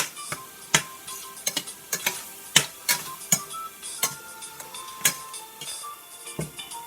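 Chicken being tossed in a frying pan with all-purpose seasoning: repeated close clatters and scrapes in an uneven rhythm, with a light sizzle underneath.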